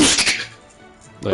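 A single sharp sneeze bursts out close to the mic during a casual gaming chat about handheld consoles, followed by a brief quiet pause and the start of another sound.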